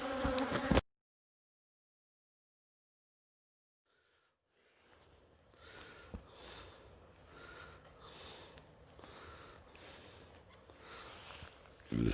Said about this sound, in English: This is the biggest hive I've ever dealt with.